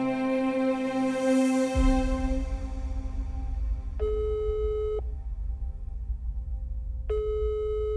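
A phone call's ringback tone during a Bangladeshi drama: two steady electronic tones, each lasting about a second with a long gap between them, over a low rumbling background and fading music.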